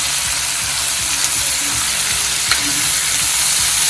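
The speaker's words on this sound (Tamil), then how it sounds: "அந்த நிமிஷம் வெந்ததுக்கு இப்போ தக்காளியை சேர்த்துக்கலாம்." Tomatoes with salt fry in a pan for pepper chicken, a loud, dense, steady sizzle with faint stirring scrapes running beneath it throughout.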